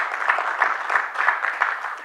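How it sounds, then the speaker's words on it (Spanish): Church congregation clapping in rhythmic unison during a Spanish-language service, loud steady beats roughly three per second, continuing without talk. "Dele palmas al Señor"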